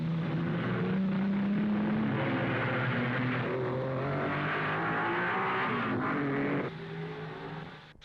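1950s Formula 1 race cars, including Mercedes, race at the 1955 Monaco Grand Prix, their engines droning and revving loudly in a continuous roar before easing off near the end.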